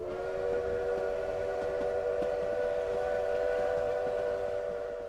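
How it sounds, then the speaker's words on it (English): A steam train whistle blows one long, steady, fairly loud blast over the low rumble of the moving train, fading slightly at the end. "Then ahead and to his left came the whistle of the train."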